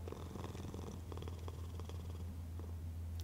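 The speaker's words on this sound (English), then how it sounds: "Such a cute cat." A cat purring in Hades II, a soft, steady low rumbling purr that continues throughout, quiet and close with faint background game sounds.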